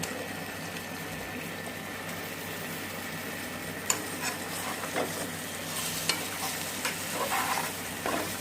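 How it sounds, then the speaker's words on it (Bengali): Ribbonfish going into hot oil with a sautéed spice paste for a Chittagong-style curry, giving a steady, close sizzle and frying hiss with a few louder spits and crackles, stirring sounds and no talking. "এ পর্যায়ে আমি খুব ভালো করে ধুয়ে নেওয়া ছুরি মাছটা দিয়ে দিচ্ছি"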